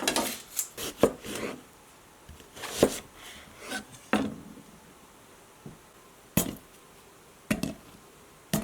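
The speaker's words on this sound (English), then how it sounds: "I'm going to chop up 4 onions" A knife chopping home-grown yellow onions on a board: irregular close knocks and short bursts of cutting, separated by quiet pauses, with no talking.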